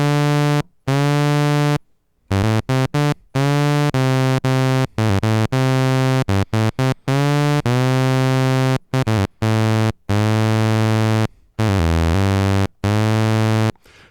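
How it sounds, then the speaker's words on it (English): IK Multimedia Uno synth playing a run of short sustained tones, each note scooping up two semitones into pitch, with brief gaps between notes and no talk. "Scoop is kind of the opposite. It starts lower than a note and scoops up to the note."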